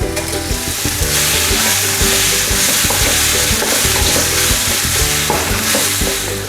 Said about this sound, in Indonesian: Bumbu ini kita tumis hingga harum dan aroma mentahnya sudah hilang.